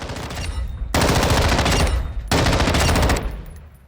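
Two long, loud bursts of rapid automatic fire from an MCX Virtus fitted with a muzzle brake in Call of Duty Modern Warfare II, separated by a short pause, with each burst trailing off into a fading echo.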